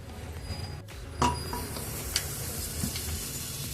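Butter melts in a hot pan for honey butter milk buns, giving a steady broad sizzle with a few faint clinks and one brief metallic tap, all close and even throughout.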